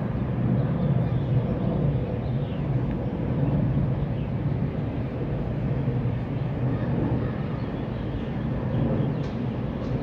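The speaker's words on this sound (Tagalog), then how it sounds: "May aeroplano. Lagi din ang lipat ng mga aeroplano." An airplane passes overhead as a steady, broad low rumble that holds at an even loudness for the whole stretch, with no voices.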